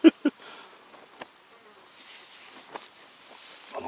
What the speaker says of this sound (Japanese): あのパトロールに来てますからね、蜂がね。